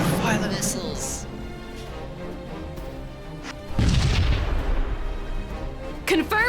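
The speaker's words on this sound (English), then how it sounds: "Fire the missiles!" In the space-combat video game Sunrider, missiles launch and strike with booming, artillery-like blasts and crashes. The impact grows heavier midway, under game music, and a person talks throughout.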